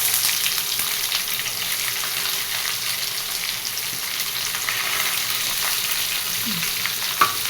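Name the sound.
onions frying in oil with curry leaves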